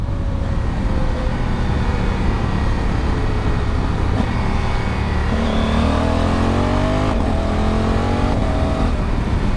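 A motorcycle fitted with a new AFAM chain and sprocket set roars close by as it downshifts, its engine pitch stepping through falling and rising sweeps over continuous loud road and wind noise.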